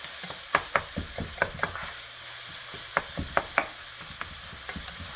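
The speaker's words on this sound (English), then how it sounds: "Garden Chunky Combo style meat sauce, Italian sauce in the meat, and then we'll let that cook down" Meat sauce made with a jarred chunky garden-style Italian sauce cooking in a pot, with a soft background simmer and sizzle broken by sharp spoon clinks and scrapes against the pot, close and without talk.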